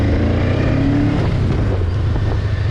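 A 2022 Honda Rebel 500 motorcycle pulls hard in second gear, its engine drone loud and steady with a rising whine, heavy wind rush over the microphone throughout.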